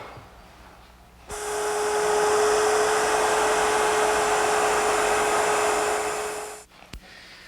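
A router fitted with a template guide, its brass bushing removed, cuts a patch from scrap board stock to fit a mortise. It whines loud and steady for about five seconds, then winds down.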